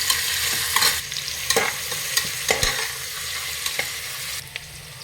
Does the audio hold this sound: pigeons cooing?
no